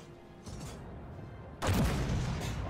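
A low rumble gives way to a sudden heavy C1 Ariete tank cannon boom in Armored Warfare, loud and broad, ringing on for a moment afterward.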